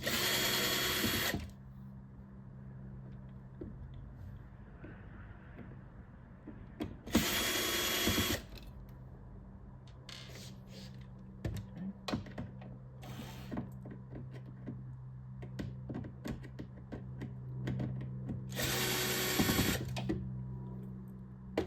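A power drill whirs in three short, loud bursts, backing out the bottom screws of a 32-inch lift-up arcade machine monitor, with quieter clicks and handling noises in the pauses between.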